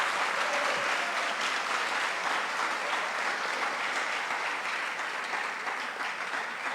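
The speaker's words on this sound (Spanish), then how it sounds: "un fuerte aplauso para el doctor" Sustained audience applause at an international congress for a doctor, dense and steady for the whole stretch at even loudness, with no voices over it.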